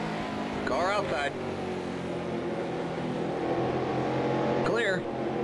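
Race cars in NASCAR Racing 2003 at the 1985 Southern 500 drone steadily from engines. Short radio-style voice calls break in twice over the constant motor roar.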